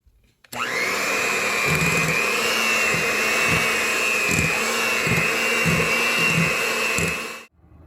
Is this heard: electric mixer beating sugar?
yes